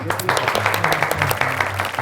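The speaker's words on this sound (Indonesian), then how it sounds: "tepuk tangan buat Mas Aldi" Studio audience claps for a guest arriving on a talk show about mountain climbers, a short burst of applause layered over a low steady hum and some murmuring.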